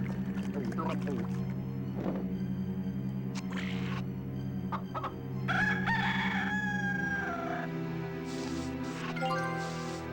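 A rooster crows in the Discworld II video game on PlayStation, the drawn-out call rising out of game music and effects, fairly loud and close, with a speaking voice over parts of it.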